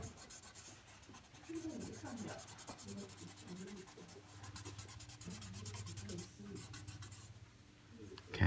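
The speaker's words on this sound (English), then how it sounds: "I'm going to use the pencil to add that to the drawing." Graphite pencil shading the dark lower area of a pear still-life drawing on paper, a steady soft scratchy rubbing that runs continuously under a person talking.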